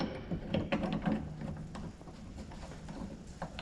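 Clicking, ratcheting metal mechanism of a slide hammer clamp being tightened down onto an auto body panel flange, a close run of small irregular clicks and scrapes with no voices.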